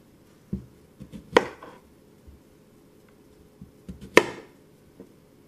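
A knife chops through the end of a sweet potato on a cutting board, two sharp cuts about three seconds apart, each a firm thunk followed by a short scrape, close and clear with quiet between.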